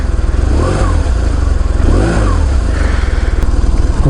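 A BMW R1100RT boxer motorcycle engine starts and runs loud and close with a throbbing, uneven idle, revving up and down a couple of times.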